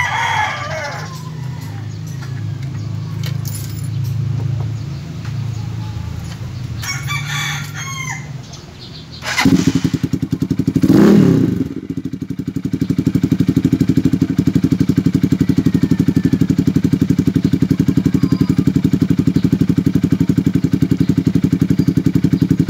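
A single-cylinder motorcycle fires up with a brief crank and settles into a steady, loud, even idle that holds close for the rest of the time. Roosters crow in the background before it starts.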